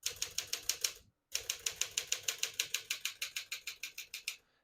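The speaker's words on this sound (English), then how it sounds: "We're just going to keep that on single for now and finish typing." Rapid, crisp mechanical keystrokes on a 1957 Smith-Corona Silent-Super portable typewriter clack in a steady rhythm, with a brief pause after the first burst, close up and with no talking.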